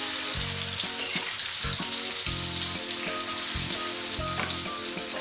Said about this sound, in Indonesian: Kita goreng bumbunya ya Bu ya.